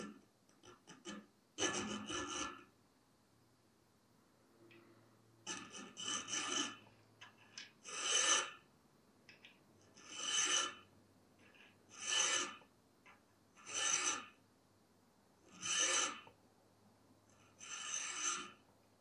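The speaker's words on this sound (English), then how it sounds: "File in a sharpening choil with a chainsaw file." Rhythmic rasping strokes of a chainsaw file on a steel knife blade, filing a sharpening choil, about nine bursts, steady back-and-forth, close and clear with short pauses between.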